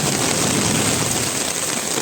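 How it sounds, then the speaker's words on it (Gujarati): Heavy rain pours down in a steady, dense hiss that stays loud and unbroken throughout, with no clear thunder standing out above it. "જુઓ કેવો વરસાદ પડે છે"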